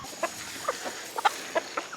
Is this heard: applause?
no